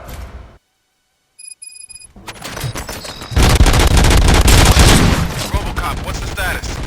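Gunfire in RoboCop: Rogue City breaks out after a quiet stretch and a few electronic beeps, building into loud, sustained bursts of rapid shots and booming impacts.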